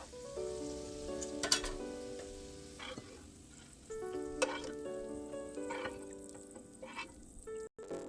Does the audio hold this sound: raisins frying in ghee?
yes